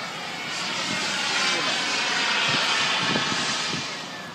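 An RC jet glider flies overhead in calm weather, its jet whine swelling into a broad steady roar and then fading slightly, with a voice speaking faintly underneath.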